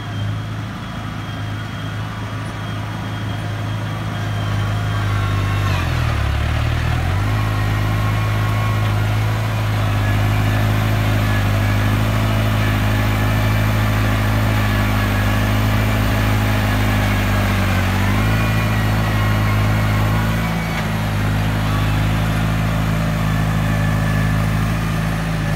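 A New Holland TR6120 tractor engine drones loudly and steadily while digging, its pitch sagging briefly a few times as it strains under heavy load.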